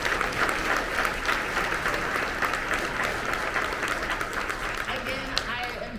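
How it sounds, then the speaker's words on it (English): Sustained applause from a luncheon audience honoring award finalists and winners, a dense steady wash of many hands clapping at even loudness throughout, with a faint voice underneath. "let's give all of our finalists and winners one last large round of applause"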